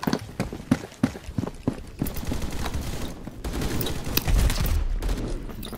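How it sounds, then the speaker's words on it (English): Shotgun fire in the Roblox game Phantom Forces, a rapid series of sharp close shots in quick succession, dense crackling bursts over ongoing game noise with no clear talk. "Dude, he pumps the shotgun so fast."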